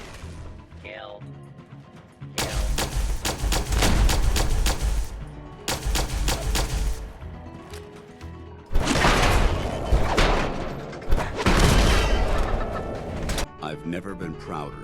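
Rapid bursts of Gauss rifle fire from a Protectron and enemies in a Fallout 4 firefight, loud and dense in several long stretches, with a voice speaking over the shooting.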